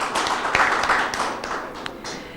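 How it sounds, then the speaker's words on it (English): An audience applauds a school debate team at a quarter-final results announcement, a few seconds of scattered, moderately loud clapping with sharper individual claps standing out. "give them a round of applause"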